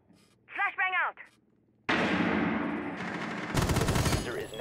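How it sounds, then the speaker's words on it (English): A flashbang grenade goes off in a tactical shooter game with a sudden loud burst, then a sustained roar and ringing, followed by rapid gunfire. Someone speaks briefly just before it. "Flashbang out!"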